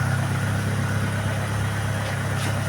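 A car engine started without its key, idling steadily: a continuous low, even rumble with a faint hiss above it, close and unchanging, with no voices.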